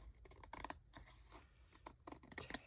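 Scissors cutting through aluminum foil, a quiet, close series of crisp snips and crinkly tearing rustles in uneven bursts, with no voices.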